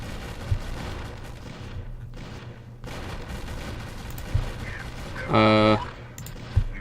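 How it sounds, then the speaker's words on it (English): Gunfire in a Space Marines tabletop or video game session: scattered soft thumps and one short rattling burst over a steady noisy backdrop, fairly faint and distant. "there was actually some shooting happening"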